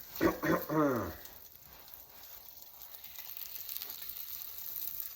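An egg fries in a light amount of butter in a pan, sticking slightly, and makes a faint, steady sizzle that follows a short burst of speech and continues alone to the end.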